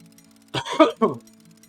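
A man clears his throat and coughs twice in quick succession, close to the microphone, with no other sound around it.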